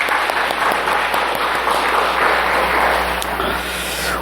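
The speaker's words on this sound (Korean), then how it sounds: "우리 박수 한번 쳐드립시다." A church congregation applauds during a Sunday service after infant baptisms, a short burst of steady, fairly close clapping from many hands with no talking over it.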